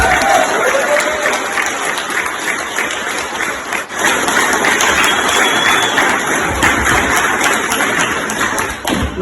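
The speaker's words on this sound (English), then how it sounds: "could we get a cheer for them in fact?" Wedding reception guests cheer and applaud for both sets of parents, a dense, loud wash of clapping and crowd noise that holds steady throughout with a brief dip partway through.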